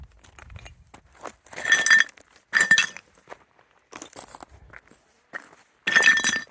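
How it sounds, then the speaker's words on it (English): Loose shale rock kicked around underfoot on a trail in Big Bend National Park gives bright, brittle clinking crunches in a few separate bursts, fairly close, with quieter scuffing between them. "I've always liked that sound of shale."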